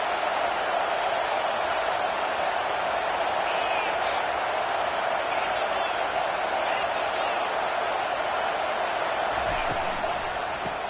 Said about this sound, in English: Now the crowd responding in the red zone